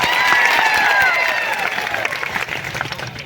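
A crowd of villagers at a political speech in Rumdiya, Kavant, breaks into dense, sustained applause with clapping and scattered cheers. It rings loud and fills the whole stretch, holding steady and then easing off a little.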